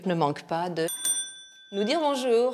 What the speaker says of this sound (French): C'est la sonnette de réception d'hôtel.